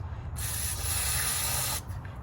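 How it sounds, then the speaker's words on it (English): A steady hiss of aerosol cleaner sprayed onto a Honda Prelude's throttle spring, about one and a half seconds long, close up, over a low rumbling background. "I'm just going to spray this little spring,"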